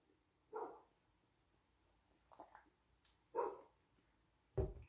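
A dog barks at the house next door, a few faint, distant, irregular barks spaced seconds apart over a quiet background.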